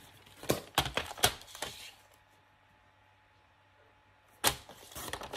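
Trimming 2 mm off a paper album pocket: a quick series of crisp, close cutting snips and scrapes, a stretch of near silence, then another short run of sharp strokes at the end, with no talk.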